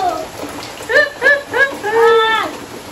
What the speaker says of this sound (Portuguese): Chovendo!